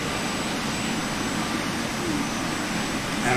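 A jet airliner's engines drone steadily during a landing in a flight simulator game, a broad, constant roar with a faint high whine and no distinct events.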